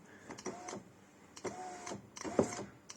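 An electric power window motor running in a Renault car door, three short whirring runs about a second apart with faint mechanical clicks, fairly quiet and close, no talking.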